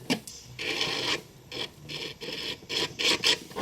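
A carbide burr grinds a plastic Nissan GT-R R34 headlight housing in short, close rasping bursts separated by brief pauses.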